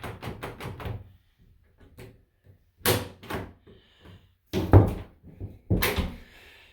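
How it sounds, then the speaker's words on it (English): A newly installed raw wooden door fitted with a knob is pushed closed. The latch and frame give several separate knocks and thunks, with short quiet gaps between them. "Give it a push, it closes."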